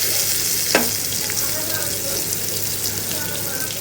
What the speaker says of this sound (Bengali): এখন আমি একটু পেঁয়াজ মরিচ ভেজে নিলাম বেগুন ভাজার উপরে দেওয়ার জন্য